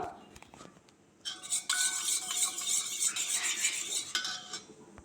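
A spoon stirring a mixture of rice water, aloe vera and coconut oil in a bowl, producing a steady run of bright metallic scraping and clinking for several seconds, close and clear with no talking.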